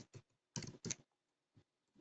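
Sharp key clicks on a computer keyboard during MikroTik router backup work: two light taps, then two louder close strikes, then fainter taps spaced apart, with no talking.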